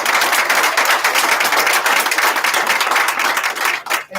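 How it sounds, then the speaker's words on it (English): Round of applause at a Providence school board meeting, loud, dense clapping from a room of people that holds steady for about four seconds before dropping away at the end. "give her a big round"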